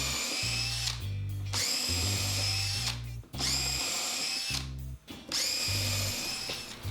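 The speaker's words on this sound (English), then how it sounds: "And I can come down through here and drill all these at once and get it knocked out in a hurry." A power drill boring a series of holes through lumber for a workbench build, loud and close, running in several long bursts with short pauses between them.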